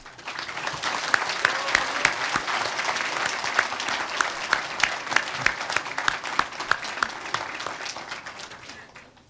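A large audience at a founding convention of a Korean political party breaks into loud, sustained applause, many hands clapping densely and steadily for several seconds with no talk over it.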